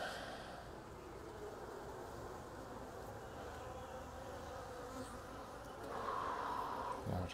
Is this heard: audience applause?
no